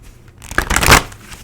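Tarot cards shuffled and drawn from a deck, a short riffling burst that peaks quickly and fades, close and alone.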